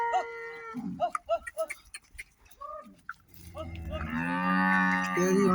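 Cattle at a cow shelter moo loudly nearby, with a long drawn-out low call toward the end; short vocal sounds and livestock movement come before it.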